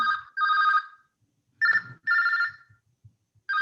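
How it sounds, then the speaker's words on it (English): During a Zoom call a telephone rings in repeated electronic bursts, two quick rings, a pause, then two more, fairly clear against near silence. "somebody's phone is going on"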